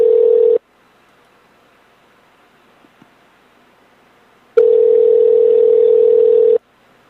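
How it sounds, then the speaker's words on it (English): Steady telephone tone on an outgoing call, one long burst, then about four seconds of near silence, then a second two-second tone, loud and clean with no talking. "I'm sure we're going to voicemail."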